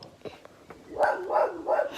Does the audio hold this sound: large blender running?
no